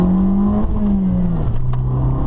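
A 2013 Fiat 500 Abarth engine drones loudly from inside the cabin while accelerating, its pitch holding steady, then dipping as the gears shift.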